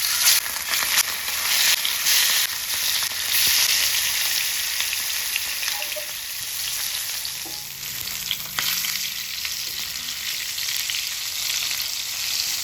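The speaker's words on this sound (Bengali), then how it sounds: "কড়াইয়ে তেল দিয়ে তেলটা ভালো করে গরম হয়ে যাওয়ার পর দিয়ে দেবো এই লবণ হলুদ মাখিয়ে রাখা" Salt-and-turmeric-coated catla fish pieces frying in hot oil in a wok, a steady loud sizzle lasting throughout with occasional stirring scrapes, heard close and alone without talk.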